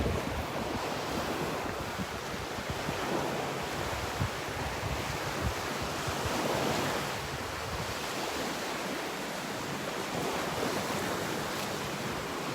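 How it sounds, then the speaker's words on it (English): Wind gusting across Delnor-Wiggins beach with the surf behind it, a steady broad rush and roar that stays constant and fairly loud throughout, with no talk. "Feels like the wind's coming out of the north"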